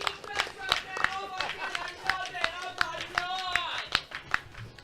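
A live audience claps at a speedrun event during a Ducktales Any% Easy run, the scattered, sharp applause blending with game music and beeps, with talk over the top.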